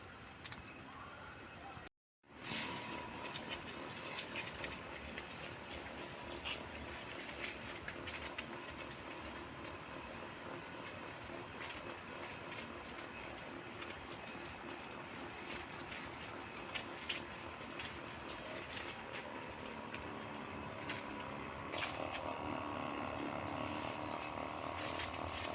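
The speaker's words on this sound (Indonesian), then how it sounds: "langsung saja mari kita akan semprot tanamannya" Sprayer misting insecticide onto durian and clove plants, a steady hissing spray running close and loud for most of the clip after a brief silence, with faint birds in the background.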